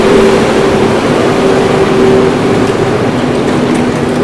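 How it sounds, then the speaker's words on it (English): A garbage truck idles and rumbles loudly on a snowy New York City street lined with nightclubs, a steady low engine drone with a faint tonal whine running throughout, close and continuous, with no voices. "the garbage truck is very loud"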